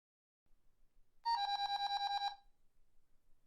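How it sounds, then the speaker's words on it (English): A phone alarm set to alert on movement at a front door rings loudly for about a second, a rapid pulsing electronic tone repeating in quick bursts before stopping, with faint low rustling around it. "That's the alarm I set up on my phone to notify me when there is movement by your front door."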